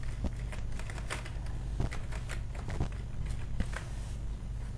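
Rapid, uneven clicking of computer keyboard keys as text is typed into Adobe Photoshop CS6, close and fairly busy over a low, constant room hum, with no speech.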